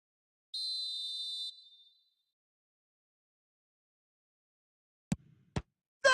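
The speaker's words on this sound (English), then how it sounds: "The whistle has gone." A referee's whistle in the eFootball 2026 football video game gives one steady, shrill blast of about a second, then silence, followed by a few short clicks near the end.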